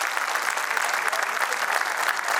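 Bright, dense applause from an audience at an award ceremony for the Haryana State Agricultural Marketing Board, honouring the CFA, rattles on steadily and close without pause.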